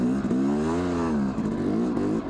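Yamaha YZ250 enduro dirt bike engine revving while riding, a close two-stroke buzz that climbs and dips in pitch over a couple of seconds, no talk.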